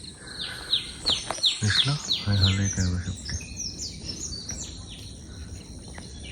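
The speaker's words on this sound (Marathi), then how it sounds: "रॅकेट टेल रॉंगो पक्षाचं कॉल" Racket-tailed drongo calling in Tillari forest, Maharashtra, with a run of loud, close, varied chirps and whistles clustered early, then sparser notes over insect hum, and a brief voice.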